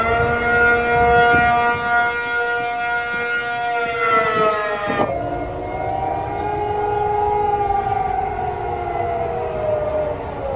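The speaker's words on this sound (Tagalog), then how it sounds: "sabay-sabay na tumunog ang mga sirena sa mga syudad ng Taiwan." Loud wailing air raid sirens across Taiwan's cities during a drill overlap and drift in pitch, one falling away midway as others keep droning across a wide space.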